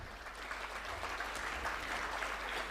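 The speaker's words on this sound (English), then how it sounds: "So you should have a huge round of applause for each one of you." Conference audience at an international management conference applauding, a soft, distant wash of many hands clapping, steady and even throughout.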